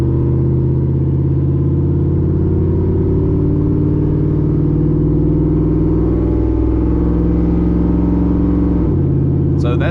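Truck with a cammed 5.3 V8 on 35-inch tires accelerating uphill, a loud, steady low engine drone rising gradually in pitch inside the cab, with a voice talking over it.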